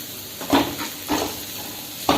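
A pot of flat lentil (thatta payaru) curry bubbling and stirred, with three soft scraping stirs spaced apart over a steady simmering hiss; close and fairly quiet.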